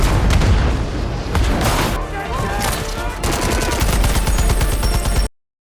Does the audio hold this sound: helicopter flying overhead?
no